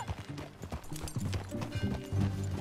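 Horse hooves clip-clop at a steady riding pace on a ranch in Red Dead Redemption 2, the faint rhythmic footfalls mixed with game ambience and a brief snort.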